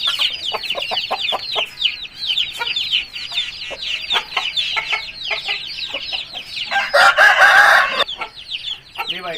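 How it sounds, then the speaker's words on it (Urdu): An Aseel fighting rooster, a one-time winner, clucks busily in rapid, repeated calls, then crows loudly and close, with other fowl also audible and no talk. "گاما پہلوان کا دوسرا مرغا آ گیا میرے ہاتھ میں، 1 ٹائم ونر مرغا ہے"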